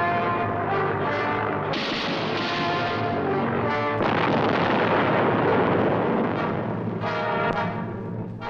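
Heavy airstrike explosions against a submarine in an old naval newsreel, a long continuous roar of blasts and rumbling detonations with a few sharper bursts, loud throughout.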